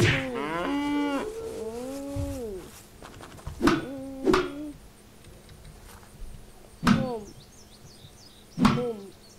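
Cattle lowing in the video game Unturned: a long, wavering moo opens, followed by several short, punchy bellows spaced a few seconds apart, fairly loud and clear over quiet game ambience.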